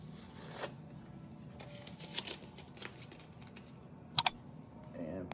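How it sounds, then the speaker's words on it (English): Masking tape being pulled up from repaired vinyl flooring at a doorway transition, faint rustling and scratchy peeling with soft taps, then a sharp double rip near the end, close and quiet. "Pull up the tape."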